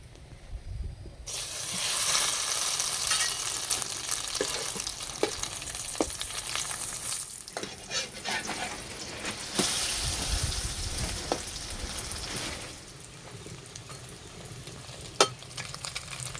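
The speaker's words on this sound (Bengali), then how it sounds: "সব পরোটাগুলো বেলে নিয়েছি, এবার ভেজে নেব।" Egg-dipped parathas fry in white oil in a wok, giving a loud, steady sizzle throughout with scattered pops and brief utensil clinks.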